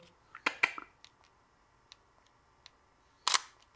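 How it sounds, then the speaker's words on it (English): Sony a6000 camera shutter firing a quick double click, then several faint scattered clicks, and finally another sharp burst of two close shutter snaps, all near and crisp in a quiet room. "I take a couple photos."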